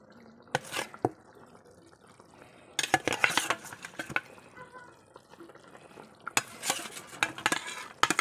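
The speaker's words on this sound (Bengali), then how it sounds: "মাছের সাথে এটাকে একটু ঘেটে দেবো" Spatula stirring Bengali chital fish curry in a pan, producing bursts of scraping and clattering with brief wet splashes between quieter gaps, close and moderately loud with no talking.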